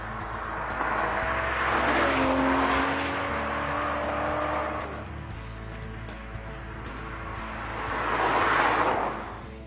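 A 510-horsepower 6-litre V12 in an Aston Martin V12 Vantage, with engine and gearbox from the DBS, drones loudly as it drives, swelling and easing in waves with a broad, steady roar and no talking over it.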